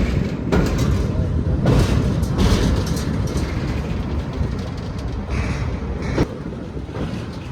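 Jan Shatabdi Express running on the Thiruvananthapuram–Kozhikode railway line, a steady loud rumble and rattle of the moving train throughout, with brief louder bursts near the start and end.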